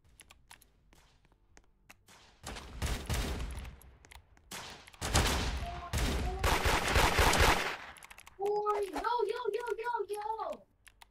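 Bursts of rapid video-game gunfire in a raid crackle loudly in clustered volleys between quieter gaps, with a voice and brief tonal chatter near the end.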